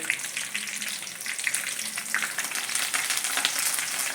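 Onions frying in a pan with dried red chillies and curry leaves for a Kerala avoli curry, a steady close sizzle and crackle of hot oil with no voices.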